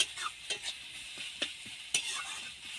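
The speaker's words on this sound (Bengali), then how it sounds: "এবার ডিমটাকে আমি ঝুড়ো ঝুড়ো করে ভেজে নেব।" Beaten egg being broken up and scrambled in hot oil for an egg pasta dish: a soft sizzle runs throughout, punctuated by sharp spatula scrapes and taps against the pan, with no talking.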